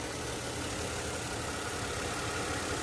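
Mercedes-Benz W211 E260 engine idling, a steady even hum with faint mechanical ticking, close and moderately quiet with no talk over it.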